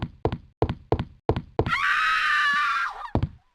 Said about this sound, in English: Oh no, I heard a scream!